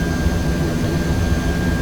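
Jet engines of the Air France AF447 airliner pushed to full thrust, a loud, steady, dense low roar throughout a short stretch with no voices.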